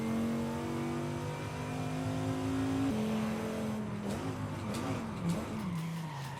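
A Dodge Viper in Forza Horizon 5 revs hard, its engine tone climbing and shifting as tires squeal and skid through a slide, loud and close with no talking.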